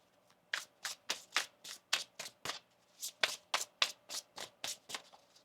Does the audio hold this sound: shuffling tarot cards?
yes